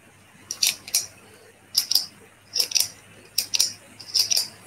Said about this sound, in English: So that is actually a pen clicking.